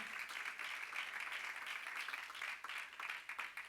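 A church congregation claps hands together, a continuous, fairly distant patter of many hands that carries on steadily without a clear individual rhythm.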